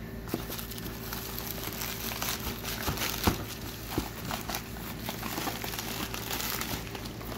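Steady crinkling and crumpling of packaging handled up close, with a few sharper crackles and snaps, over a continuous low hum.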